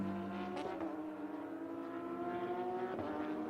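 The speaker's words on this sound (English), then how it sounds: "Oh, that's a lovely sound on that flat 6 boxer engine." A flat-six boxer race car engine idles and revs at the Portimão circuit during qualifying, a steady droning note rising in two sharp blips, loud and close with no voices.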